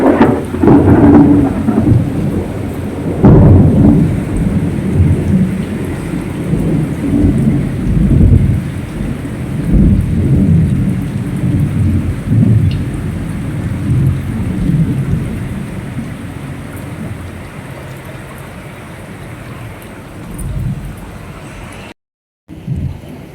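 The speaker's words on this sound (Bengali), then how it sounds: "বিদ্যুৎ চমকাচ্ছে মেঘ ডাকছে আবার বৃষ্টি হচ্ছে হাওয়া হচ্ছে" Monsoon thunderstorm with rolling thunder, steady heavy rain and gusting wind, loud and continuous throughout, with a brief dropout near the end and no talking.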